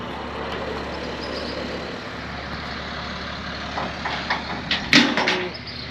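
A truck engine idles steadily at low volume while it is being unloaded, with a few brief clanks and knocks near the end.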